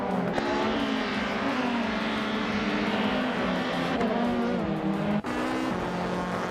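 Race cars in a racing video game roar past with loud revving engines shifting pitch steadily, a quick drop and gear change near the end, with no voices.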